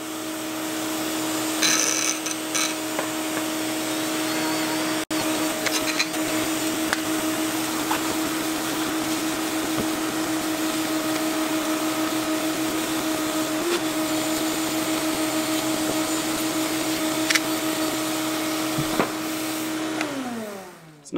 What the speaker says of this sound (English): basically what I do is I just kind of turn my vacuum on and then take the wire wheel.